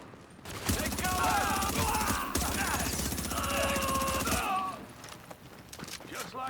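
Sustained bursts of rapid video game gunfire, dense and loud, crackle for about four seconds amid shouted battle commands, then cut off abruptly, leaving quieter background noise.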